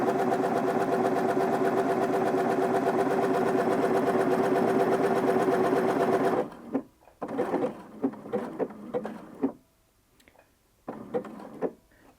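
A domestic sewing machine stitches a buttonhole in fabric with a fast, steady mechanical whirr for about six seconds, then stops, leaving scattered clicks and soft handling noises with pauses of near silence.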